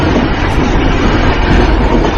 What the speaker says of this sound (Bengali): ইঞ্জিনের সাঁই সাঁই শব্দ, আর গার্ড সাহেবের হুইসেল।